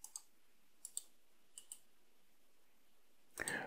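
Computer mouse clicks while code is pasted into a WordPress site: a handful of quiet, sharp clicks in pairs, spaced apart in a silent room, then a brief louder rustle at the end.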